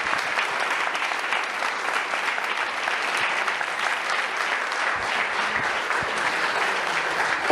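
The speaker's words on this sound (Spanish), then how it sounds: "Dele el aplauso al Señor" Steady, dense applause from a church congregation praising the Lord, continuous and fairly loud throughout, with no one talking over it.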